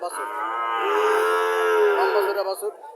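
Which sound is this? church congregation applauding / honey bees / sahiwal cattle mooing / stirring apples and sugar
sahiwal cattle mooing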